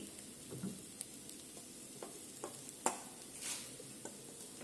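Chili and tomato hitting a hot pan for chow mein, a soft sizzle under scattered scrapes and taps of a spoon stirring, heard close and quiet with no talking.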